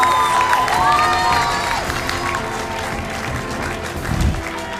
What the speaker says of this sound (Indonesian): Kita beri tepuk tangan yang paling meriah untuk Angel.